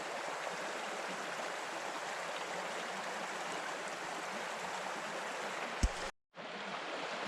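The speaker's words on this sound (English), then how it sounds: "Got a good stream." Water streams steadily into a bottle beside a river on a back-road bikepacking trip, a constant close rushing hiss with a brief knock near the end and a sudden short drop-out.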